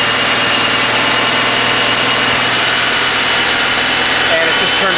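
Car engine idling steadily with an automotive A/C system running, the compressor clutch engaging as refrigerant pressure is drawn down; a continuous broadband hum and drone fills the whole stretch, close and loud.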